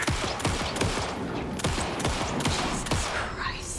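Gunfire in Alan Wake 2, a string of about eight loud, sharp shots spaced at a steady rhythm roughly every half second, each with a short echoing tail.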